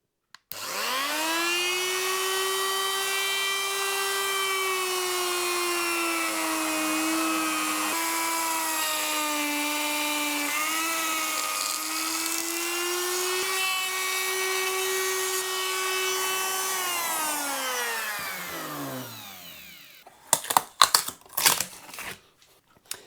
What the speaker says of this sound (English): just use the router to clean out the rest of this in the neck pocket